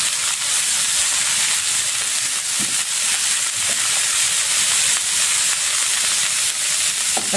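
Purple cabbage frying with browned garlic in butter in a pan, a steady, loud, even sizzle with no break and occasional faint clinks of stirring, with no voices.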